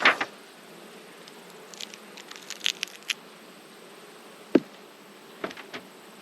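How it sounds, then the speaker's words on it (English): Honey bees buzzing steadily around an open hive box in an apiary yard of splits and honey hives, a low continuous hum close by with occasional sharp knocks and taps from handling the equipment. "Good looking box of bees."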